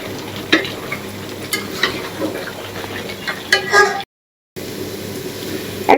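Vegetables with cauliflower frying for vegetable fried rice, a steady sizzle broken by repeated clinks and scrapes of stirring in the pan, with one brief pause in the middle.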